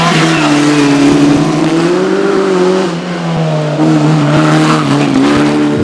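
A Lotus 69 Formula 3 single-seater, rebuilt in 1971 Monaco-winning livery, climbs the Shelsley Walsh hill course, its engine note loud and close, rising and easing through gear changes and holding a steady high-revving roar throughout.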